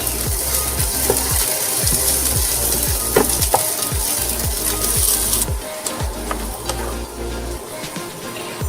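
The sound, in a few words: onions sautéing in a pan to caramelize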